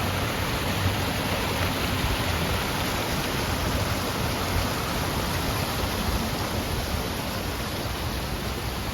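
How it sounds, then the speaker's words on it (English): Steady, dense rushing of water flowing from a fountain statue, a constant broadband splash with no pauses, close and fairly loud. "Like the fountain is flowing out on this side."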